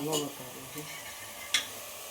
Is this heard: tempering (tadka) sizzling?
yes